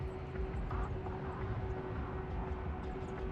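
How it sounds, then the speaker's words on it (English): A helicopter in Broken Arrow drones with a steady engine hum and a dense low rumble, continuous and fairly loud, with no speech over it. "Helicopters are impressive machines. Boy, are they noisy."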